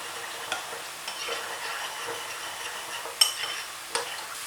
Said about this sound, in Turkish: Üzerine yarım çay bardağı suyumu aldım. Şöyle karıştırıyorum.